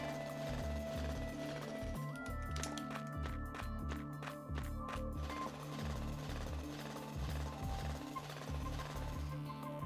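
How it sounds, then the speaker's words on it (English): A jackhammer in the survival game MewnBase, carried by a space cat character, tears through rocks with steady, rapid rhythmic pounding. It is loud and close and continues without a break over a dense layer of game sound. "watching this adorable space kitty walk around with a jackhammer, just tearing through rocks"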